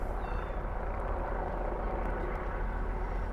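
A helicopter hovers in the distance over Prague, a steady, faint broadband drone that continues without a break and has no clear rotor beat.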